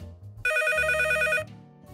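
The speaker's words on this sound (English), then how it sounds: "would you look at that? A phone call." A telephone rings once in a short, loud electronic trill, a rapid warbling tone lasting about a second, alone with no talking.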